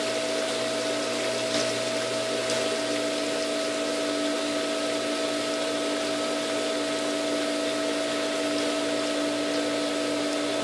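A swimming pool sand filter pump drones through a backwash on an algae-choked pool, a loud, steady motor hum with constant whooshing water and a few faint clicks, heard alone.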